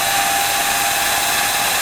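A Greerco homogenizing mixer driven by a 1/2 horsepower Baldor motor runs steadily at high speed, giving a loud, constant whine and hiss with a sustained tone and no breaks.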